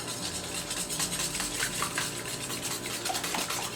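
Eggs are whisked in a bowl for a frittata, a fast, steady rhythmic whisking and light clatter heard up close and continuously with no talking.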